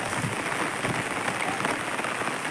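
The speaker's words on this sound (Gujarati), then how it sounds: "હજી ઝીણો ઝીણો વરસાદ ચાલુ છે" A steady, even hiss of rain patters on surfaces, a constant soft wash of drops with no breaks.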